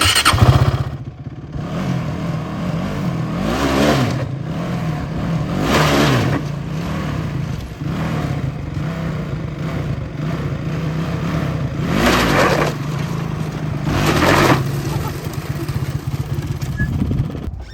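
A small quad bike engine revs hard in repeated surges during a wheelie, rising and falling in pitch with bursts of throttle, loud and close, with brief squeals between.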